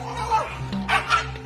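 A dog gives a few short, close barks and yips mixed with whimpering over about a second and a half, loud against a faint background, with no one talking.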